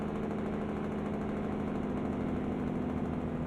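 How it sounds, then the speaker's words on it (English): A heavy truck engine in American Truck Simulator drones steadily under engine braking, a continuous low rumbling throb with vibration, loud and close and without any talk. "So I get more slowdown with the engine brake."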